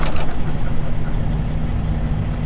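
A truck engine idles close by at a truck stop, a loud, steady low rumble with a constant droning hum and no break across the whole stretch.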